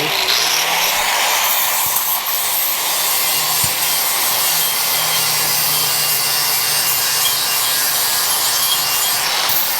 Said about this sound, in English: Now what I'm going to do is take the one with the sandpaper